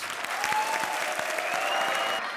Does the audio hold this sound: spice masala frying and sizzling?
no